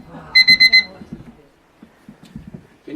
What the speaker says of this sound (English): Oh, sorry about the timer.